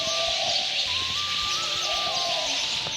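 Birds call at Kadam Kunj in Vrindavan: thin tonal calls rise over a steady outdoor hiss, moderately near, with no speech.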